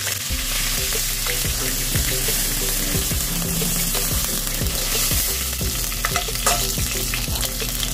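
Chicken pieces fry in a pan of oil, a steady dense sizzle and crackle running the whole time, with repeated scraping and stirring knocks from a utensil. No one speaks.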